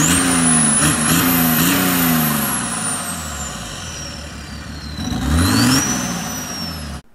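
Engine of a Local Motors Rally Fighter idles loudly up close, its pitch sagging and then rising again as the revs shift, before cutting off abruptly at the end.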